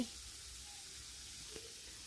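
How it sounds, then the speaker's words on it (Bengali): Onions frying in a pan make a faint, even hiss throughout, with one small tap partway through and no voices. "এই তো এখানে আমি পেঁয়াজগুলো ভাজা শুরু করে দিয়েছি।"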